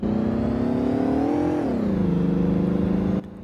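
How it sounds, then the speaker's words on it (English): A 1984 Squarebody truck in Roblox Greenville runs at full throttle, a loud, steady, droning engine that holds its pitch, dips slightly midway, and cuts off abruptly near the end. "Driving the Squarebody, always a unique experience, especially with how slow this thing is. Here's full throttle."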